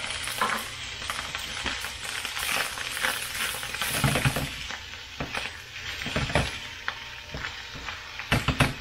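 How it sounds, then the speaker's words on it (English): Leftover fajita vegetables saute in a hot pan, a continuous sizzle broken by repeated scraping and clacking as a utensil stirs them around, close and fairly loud with no talking. "I want to saute this around until it gets mixed good and warm"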